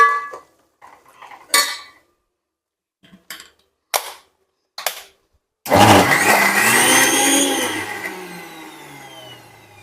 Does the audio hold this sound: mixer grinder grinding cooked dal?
yes